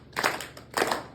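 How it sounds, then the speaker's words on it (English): Two sharp hand claps, right hand on top, with a short gap between them, close and alone in a quiet room during an exercise session. "right now let's put the right one on top and just clap."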